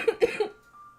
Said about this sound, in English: I unmute the mic and start coughing